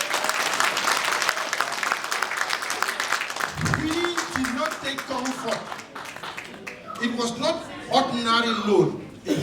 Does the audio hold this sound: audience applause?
yes